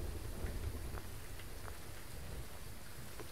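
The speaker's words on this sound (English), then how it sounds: "Oh no, it's raining!" Steady rain falling in the Phasmophobia ghost-hunting game, a dense continuous hiss with scattered droplet ticks, fairly quiet and without speech.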